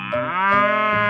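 A cow in a 3D animal sliding video game gives a single clear, drawn-out moo with a rich harmonic tone, loud and close with no talking.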